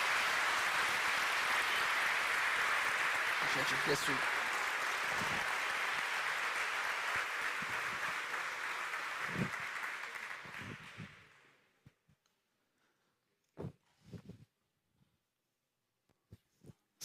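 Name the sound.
audience applause at awards ceremony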